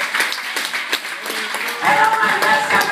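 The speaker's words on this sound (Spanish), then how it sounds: "Dale ese fuerte aplauso a Cristo" A church congregation applauds loudly, sharp clapping filling the space, with faint voices and a tonal sound mixing in toward the end.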